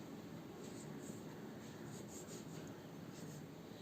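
Pen writing a maths solution on paper, a very faint, steady scratching and rubbing that continues without pause, close by and quiet.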